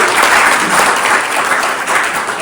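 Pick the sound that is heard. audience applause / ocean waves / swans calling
audience applause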